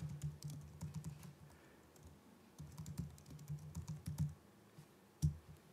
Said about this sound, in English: if I leave this one blank and I start typing here